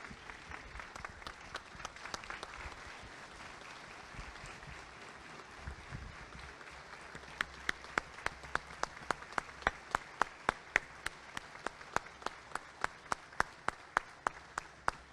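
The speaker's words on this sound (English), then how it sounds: "join me in a big round of applause as I welcome our United States Congressman Hal Rogers" A Chamber of Commerce luncheon audience applauds to welcome Congressman Hal Rogers, a dense wash of clapping that thins into a slower, distinct rhythm of individual claps near the end.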